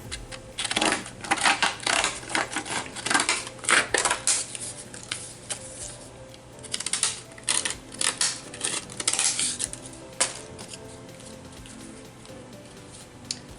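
Scissors snip a small piece of paper scrap for a junk-journal page, giving close, crisp clicks in uneven bursts with brief pauses between them and no voices.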